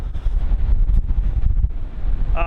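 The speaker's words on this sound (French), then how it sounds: "en plus il y a du vent" Strong wind buffets the microphone on a high footbridge, a rough low rumble of gusts that stays loud for the whole brief moment.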